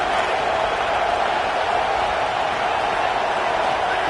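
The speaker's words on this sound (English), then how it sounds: "Man, this crowd really affecting the football game." Home football crowd in a stadium during a game against Maryland, a dense, steady roar of cheering voices at high volume, sustained without break throughout.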